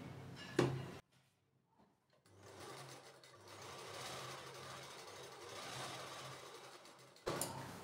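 A sewing machine stitches a saree seam in a close, steady whirring run of rapid needle strokes, preceded by a sharp knock and a short pause and ending with another clunk, no talking.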